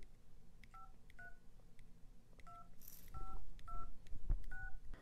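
A series of short electronic keypad beeps from a 4G Android smartwatch's phone dialer, evenly paced two-tone presses, plays faintly over a quiet background hum with some rustling.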